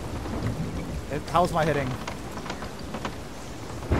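Thunderstorm at sea in the video game Sea of Thieves, with steady rain hiss and low thunder rumble beneath someone speaking briefly mid-clip.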